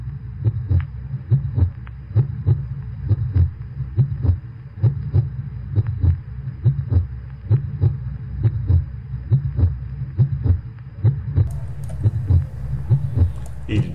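A steady, deep heartbeat pulses in a regular double-thump rhythm on a Pink Floyd recording, loud and close with a low hum beneath, continuing evenly throughout.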